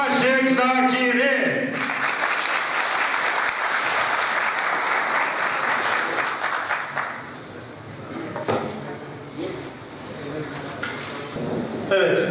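Audience applause at a party congress in Ankara, a dense clapping wash following a few seconds of music, thinning out into scattered claps while a voice speaks.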